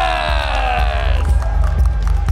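Wrestling arena crowd roars and cheers for Arizona State champion Ray Rosas at his ring introduction, a loud continuous wall of voices with whoops over a steady low rumble.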